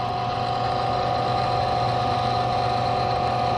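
A Proto Trak KMX CNC milling machine spindle runs with a steady, even mechanical hum and a sustained high whine, constant in level with no breaks.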